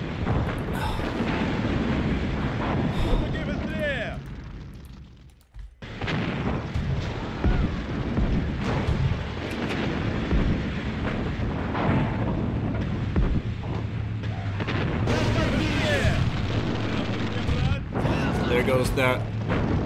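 Massed artillery fire in the WWII strategy game Sudden Strike, Town and Station mission: a continuous, dense barrage of booming explosions and rumbling detonations, loud and sustained, with a brief lull partway through and someone talking over it.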